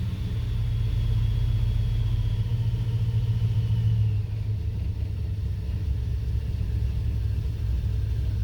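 A 1987 Dodge Ramcharger engine runs after a carburetor fuel fix, giving a steady, close low rumble with a slight rev drop partway through, alone without talk.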